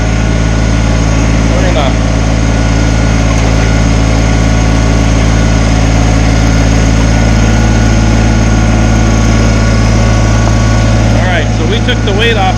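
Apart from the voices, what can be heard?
Kubota BX tractor engine given throttle to lower backhoe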